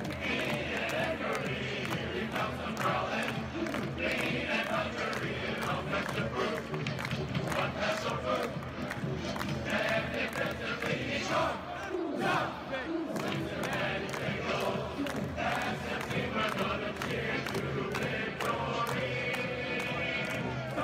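Stadium crowd at a Bengals game at Riverfront Stadium in Cincinnati singing the growl chant, a dense, sustained roar of many voices carrying on steadily throughout with a rhythmic pulse beneath.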